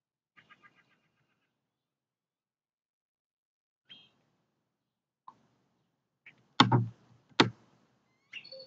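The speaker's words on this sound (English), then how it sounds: "You hear the birds in the background" Birds chirping outdoors, a few sparse short calls and tweets spread across the clip, fairly faint, with some louder clicks and knocks near the end.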